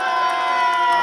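A crowd at a free fight wrestling event cheers in a dense, continuous roar, loud and sustained throughout without breaks.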